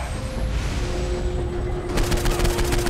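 Gunfire in Saints Row 4 combat, starting as a background rumble with a steady tone, then breaking into a rapid regular burst of shots near the end.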